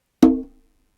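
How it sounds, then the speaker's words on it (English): A single conga stroke with a ringing pitched tone that is quickly muted, dying out within a fraction of a second. "you are playing open tone and damping it"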